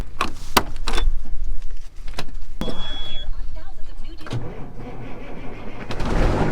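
An old Detroit diesel engine in a truck cranks and fires, sharp clatters and a brief whine giving way to a steady low rumble settling into idle.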